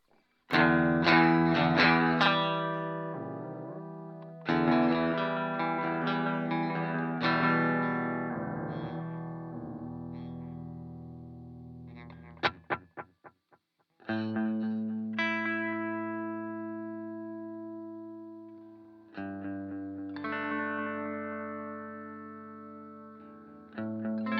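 Electric guitar played through a Strymon Brig analog delay pedal, loud sustained chords and single notes trailing into repeats, with pauses between phrases and a quiet hum underneath.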